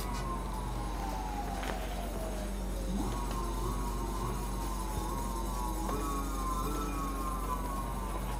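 An electric motorcycle, a MotoGP paddock bike, whines steadily as its rear wheel spins freely. The tone glides down, then climbs and settles again several times over a continuous hum, with no talk.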